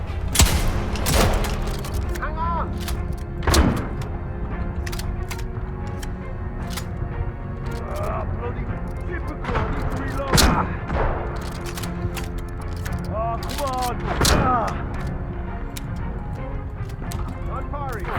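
Gunfire in the video game Atomfall, scattered sharp shots and booms spaced across the stretch, loud and close, with someone talking over much of it.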